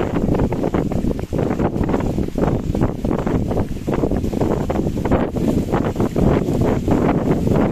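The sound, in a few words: wind at a coastal promenade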